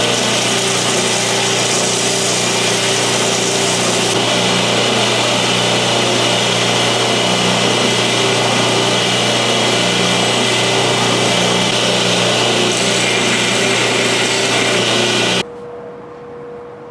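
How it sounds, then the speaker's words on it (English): A power grinder works steadily on the blade of a neck knife, a loud, continuous high whine and hiss that runs unbroken for about fifteen seconds before cutting off. "Now I can grind it all the way around"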